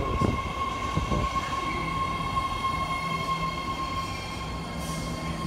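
A new 9-car San Francisco BART Blue Line rapid transit train rumbles steadily with a faint high whine from its motors, the sound holding constant as it moves off.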